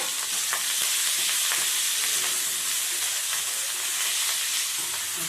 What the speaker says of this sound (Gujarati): હવે આપણે એમાં નાખીશું મરચાં.